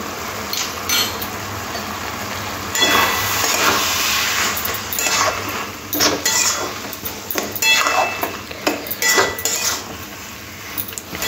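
A spatula stirring banana flower in a pan, metal clinking and scraping against the pan in a continuous busy clatter that turns into quicker rhythmic strokes, close and fairly loud over a faint hiss.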